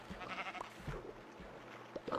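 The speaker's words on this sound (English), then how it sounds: "Luckily, here's a sheep." A sheep in Minecraft bleats faintly a few times over a soft, noisy game background, short and distant-sounding.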